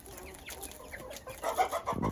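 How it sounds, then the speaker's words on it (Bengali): Tiger chickens on a farm cluck in short bursts, growing louder and busier toward the end of the brief stretch, with no voices. "আমাদের ফার্মের টাইগার মুরগিগুলোকে দেখাবো"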